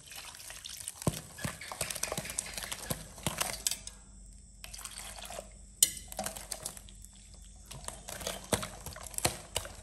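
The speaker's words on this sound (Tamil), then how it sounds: "இளநியோடு சேர்த்து நீ தண்ணி விட்டு கலப்போம்." Wet dosa batter is stirred with water, giving a rapid, uneven series of soft squelching clicks and slaps, fairly close and quiet.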